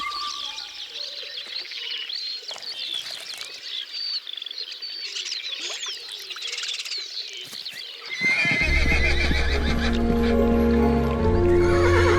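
Wild horses whinny and neigh repeatedly over scattered birdsong, then hooves clatter loudly in a steady clip-clop that takes over toward the end.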